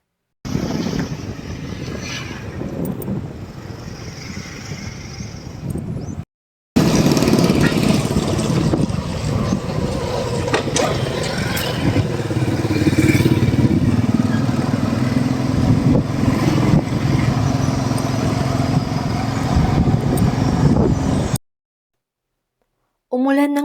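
Motorcycle ride with a child on a damp rural road after overnight rain, a steady low engine drone mixed with wind buffeting the microphone, continuous and close, with a short gap partway through.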